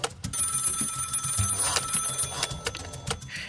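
A telephone rings repeatedly and goes unanswered, its bright electronic trill steady and fairly loud across several seconds with no voices.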